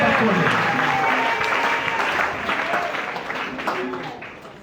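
A church congregation at a French worship and praise service claps in praise of the Lord, loud and close at first and then gradually fading, with voices heard speaking over the applause.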